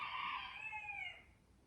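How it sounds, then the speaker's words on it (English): A neighbor's free-roaming rooster crows once at a distance, a single drawn-out call that fades away toward the end over a quiet backdrop. "did you just hear that rooster?"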